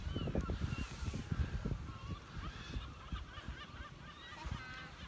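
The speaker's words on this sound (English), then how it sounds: "Look at all those birds." A flock of birds honks like geese on the windy Fleetwood coast, many overlapping calls at a moderate distance, faint and continuous with gusty wind noise.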